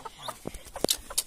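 Chickens in a coop cluck in short, scattered bursts, several birds calling close by with brief sharp notes and small gaps between them.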